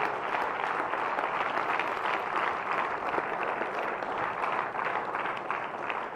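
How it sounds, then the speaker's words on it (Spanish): A church congregation applauds steadily during a Saturday service at a family retreat, a dense, even wash of clapping that holds at the same fairly loud level from start to finish with no voice over it. "denle ese aplauso al Señor"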